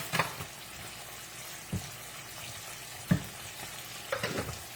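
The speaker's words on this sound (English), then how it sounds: "So we'll continue frying our fish." Fish frying in a pan crackles in a constant low sizzle, with a few louder pops or utensil clinks at irregular moments and no voices.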